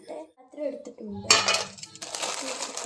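Metal cooking pots and utensils clank and clink as a vessel is lifted and handled in a home kitchen, close by, with a few sharp knocks followed by a brighter rattle.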